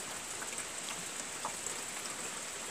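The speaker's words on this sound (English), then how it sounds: "You know it's raining, right?" Rain falling outdoors, a dense, even hiss of drops pattering on surfaces nearby, steady and continuous, with no voices.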